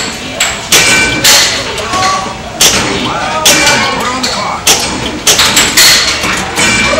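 Arcade pinball machine flippers smack the ball in a quick, irregular series of sharp thumps and taps, loud and close, with machine chimes and people talking softly in the background.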